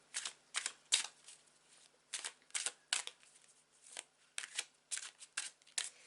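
Tarot cards are shuffled in a series of crisp riffling bursts, close and fairly quiet, repeating irregularly with brief pauses between, no voices present.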